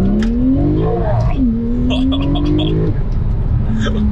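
A Porsche 991.2 Turbo pulls hard on the autobahn, its loud engine note rising steadily through the revs with a brief gear change, all close and continuous inside the cabin.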